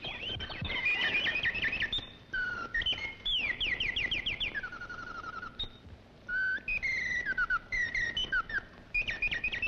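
Clockwork mechanical birds, 1950s automatons, warble and trill in quick, bright whistled phrases, close and continuous over a faint mechanical whir of gears, with no voices.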